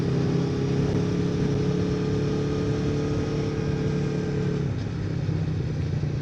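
A 2015 Aprilia Tuono 1000 V4 motorcycle cruising gently, its engine holding a smooth, steady drone at low revs with a faint dip near the end.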